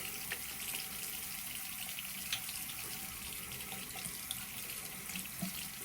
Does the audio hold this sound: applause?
no